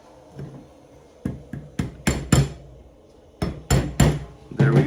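Hammer blows drive a punch into a Smith & Wesson FPC trigger assembly: about nine sharp metallic taps, arriving singly and in quick pairs, close and fairly loud, with quiet pauses between them.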